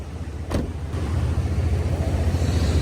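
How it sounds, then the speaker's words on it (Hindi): From inside a moving car, a steady low engine and road rumble builds gradually, with a couple of brief sharp clicks early on. "क्या आवाज़ें आ रही हैं गाड़ी में से अजीब व गरीब सी यार।"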